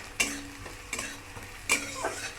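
Chopped chillies stirred in a hot frying pan: three distinct scraping strokes of a utensil, each with a brief hiss of sizzling oil, close and fairly quiet, with no voices.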